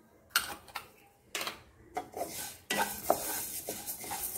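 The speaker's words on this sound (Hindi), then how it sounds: "इसे 1 मिनट तक अच्छे से भून लेंगे। धीमी आंच पे हमें सभी मसालों को अच्छे से ड्राई रोस्ट करना है।" Cumin, fennel and other whole spices are dry-roasted over low heat, stirred and scraped in a metal pan with a spoon, making irregular close clinks and scrapes with a faint sizzle and no talking.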